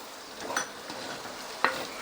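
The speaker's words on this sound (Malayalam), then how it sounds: "ഇതിനോടൊപ്പം തന്നെ നമുക്ക് തക്കാളി അരിഞ്ഞതൂടെ കൊടുക്കാം. എല്ലാവരെയും കൂടെ ചേർത്ത് നമുക്കൊന്ന് വഴറ്റാം." Prawns and chopped tomato are sautéed in a pan for a Kerala-style prawn roast, giving a quiet sizzle with a couple of brief scraping stirs, and no talking.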